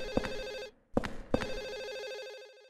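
Telephone in the survival horror game Silent Hill 4: The Room rings in bursts, two trilling rings broken by a short gap and then a long sustained ring that carries on to the end, fairly close and alone.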